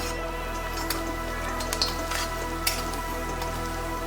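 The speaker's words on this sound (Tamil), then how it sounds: "வெங்காயம் நல்லாவே வேகப்பட்டுருச்சுங்க" Onions frying in a pan for a country chicken (natu kodi) curry, a steady soft sizzle with a few faint clinks and stirs, no talking.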